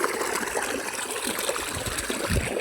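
Water runs steadily into a field irrigation channel on a farm, a continuous close trickling and gurgling flow with no voices over it.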